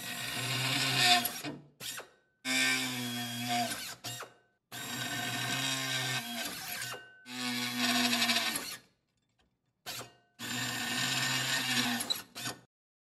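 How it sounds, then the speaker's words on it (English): A handheld rock drill runs in several loud bursts separated by brief pauses, each a harsh, grinding whine as holes are bored. "let's do a drilling comparison between our standard handheld drill and our CFD"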